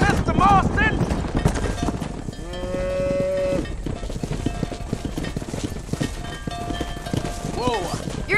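Cattle herd mooing in the Red Dead Redemption video game, several loud overlapping moos with a long sustained bellow midway, under hoofbeats, clatter and a speaking voice.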